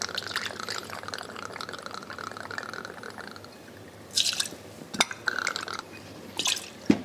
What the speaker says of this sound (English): We'll be pouring 90 ml of that